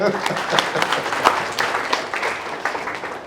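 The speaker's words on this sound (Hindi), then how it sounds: "इन लोगों को खूब पड़ा है इसकी ताली बता रही है।" An audience at a freshers' keynote address claps in a moderate burst of scattered applause, with a speaker's voice mixed in over the clapping.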